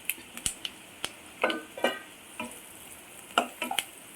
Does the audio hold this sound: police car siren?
no